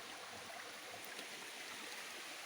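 Water in a stream flows under rock in a cave, giving a faint, steady rushing and gurgling hiss that continues without a break and without voices.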